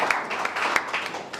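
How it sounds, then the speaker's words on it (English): A small audience claps after a panel event on mental health in sports recovery, a brief patter of individual hand claps at moderate distance, irregular and fairly sparse, with no talking. "so round of applause"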